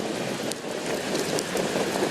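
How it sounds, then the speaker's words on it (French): Rain shower falling steadily over a racecourse during a trotting horse race, a continuous broadband hiss of rainfall with no talk over it. "la pluie fait son apparition"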